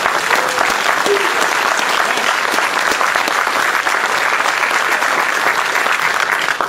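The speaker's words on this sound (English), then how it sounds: "So we owe you a round of applause." A town hall audience on illegal immigration breaks into loud, sustained applause, dense clapping from a packed room that holds steady for several seconds, with faint crowd voices underneath.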